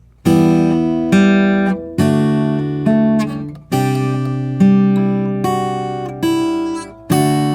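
Guitar chords of a song strummed one at a time with the index finger in a steady rhythm, each ringing briefly before the next, played alone and close.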